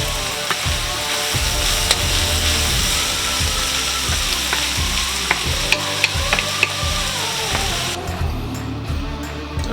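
A roux for shrimp and grits being stirred in a hot pan, a continuous close sizzle with rhythmic scraping strokes and occasional utensil clicks against the pan.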